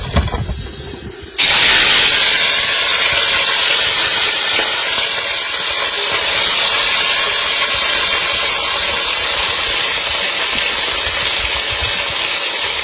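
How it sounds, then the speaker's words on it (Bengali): Fish dropped into hot oil sets off a sudden loud, steady hissing sizzle that carries on unbroken and close at hand. "বন্ধুরা তেল গরম হয়ে গেছে, এবার মাছ দিয়ে দেবো।"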